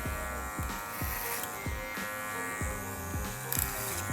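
Hair clippers with a 2 guard buzz close up while cutting hair, a constant electric whir broken by repeated rhythmic strokes through the hair, with no one speaking.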